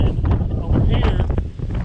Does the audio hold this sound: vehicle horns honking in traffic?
no